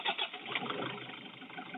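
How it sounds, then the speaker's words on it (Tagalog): A Toyota HiAce 2KD diesel engine, newly fitted with oversize piston rings and a honed liner, cranks and catches, a short muffled burst of mechanical churning with no voices. "Ngayon i-start na natin yan para magkaalaman na."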